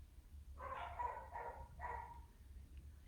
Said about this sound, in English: Apologies if you can hear my dogs barking.